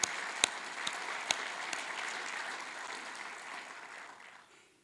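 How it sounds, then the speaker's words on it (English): Audience applause at a Republican Party forum, dense clapping with a few sharp individual claps near the start, sustained at a steady level before tapering off toward the end. "Let's give them a round of applause."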